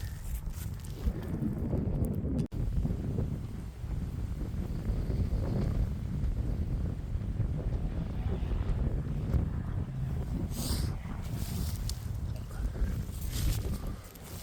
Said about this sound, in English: Certainly got a nice bit of wind tonight